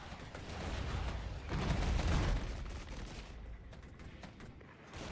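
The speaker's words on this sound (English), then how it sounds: "So let's hit this with an artillery strike." An artillery strike in the real-time strategy game Regiments, a rumbling stretch of distant booms and crackling gunfire that swells in the middle and then tapers off, fairly faint and with no talking.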